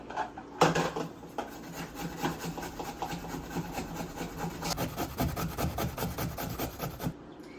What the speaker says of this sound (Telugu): కీరా దోసని అయితే నార్మల్గా తురుముకోవాలి.